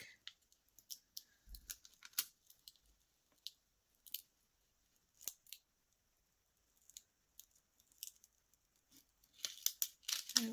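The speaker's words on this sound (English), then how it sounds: "turn my design over and peel it from the back. Just slowly peel it back." Self-adhesive vinyl lettering slowly peeled from its backing sheet, giving intermittent soft crackling and tearing rasps in short bursts with quiet gaps, close and faint, busier at the end.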